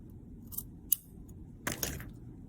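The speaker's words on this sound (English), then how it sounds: "So I'm actually going to cut some of that off." Scissors cut a felt strip for a bow, giving a few short, close snips spread across a quiet moment with no voices.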